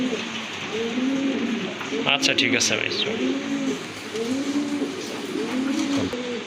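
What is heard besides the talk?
fancy pigeons cooing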